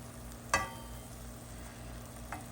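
Beef browns in a pan for hunter's stew with a low, steady sizzle, and one sharp utensil clink is followed later by a softer tap.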